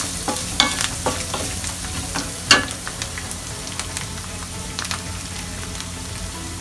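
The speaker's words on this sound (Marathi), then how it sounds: "आता हे व्यवस्थित मिक्स करून घेऊया." A spice mixture for aloo bonda being stirred and fried in a pan, close steady sizzle with repeated light scrapes and a sharper clink of the spoon against the pan.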